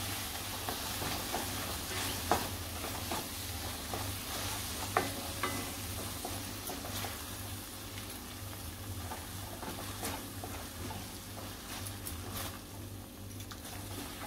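Soya chunks masala sizzles and bubbles in a pan while yogurt is stirred in, a steady frying hiss with occasional scraping spoon strokes and soft clicks, no talk.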